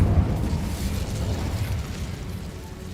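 Incendio fire spell cast in Hogwarts Legacy, a loud whooshing, rumbling burst of flame that starts strong and slowly fades across a few seconds, with no talking.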